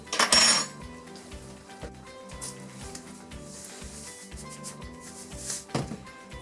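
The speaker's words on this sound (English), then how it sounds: "I'm just going to take a little bit of the liquid with a clean teaspoon" Clean teaspoon scraping and clinking against a pan of chicken and sweet potato curry, a few bright metallic knocks with softer rubbing scrapes in between, close and clear.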